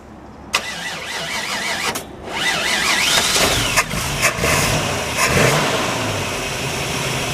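A 1962 Chevrolet Corvette engine cranks briefly, stops, then catches and fires up, settling into a loud, steady rumble with a few revs, close by.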